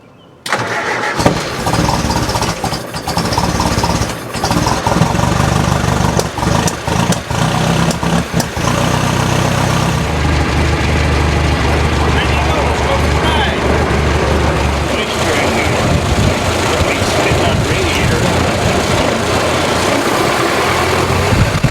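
A 1923 Ford Speedster engine cranks and catches, then settles into a loud, steady rumbling idle close by, with a voice speaking briefly over it.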